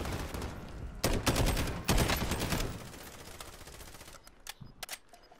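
Rapid gunfire in Call of Duty Warzone, two loud close bursts of sniper rifle shots about a second apart, then fading into quieter scattered clicks and distant pops.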